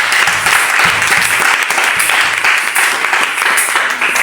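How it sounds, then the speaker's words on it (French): A church congregation claps and applauds together during a worship service, a dense, steady wash of many hands close by, continuous and loud for the whole stretch with faint voices underneath. "Acclame Jésus."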